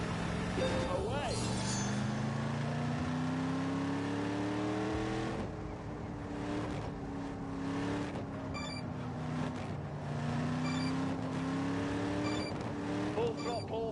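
A car engine at full throttle in The Grand Tour game, climbing steadily through the revs with gear changes, loud and close, dropping briefly before rising again, with a voice speaking over it.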